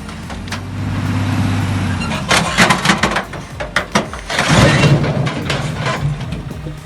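A heavily overloaded logging truck hauling logs rumbles close and loud, with a steady low engine drone giving way to irregular clunks, creaks and straining thumps from the laden suspension.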